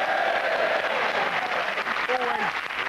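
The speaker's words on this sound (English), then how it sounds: "That never ever fails to get a clap." A television studio audience on a sports comedy panel show claps and laughs in a steady, moderately loud burst lasting a few seconds, with voices rising faintly through the noise.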